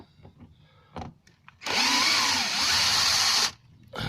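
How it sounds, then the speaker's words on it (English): A power drill drives long screws into wood for a storage compartment door, a loud sustained whine of nearly two seconds with a pitch dip mid-run, framed by quieter clicks and handling noises before and after. "use some nice long screws in there to hold it in"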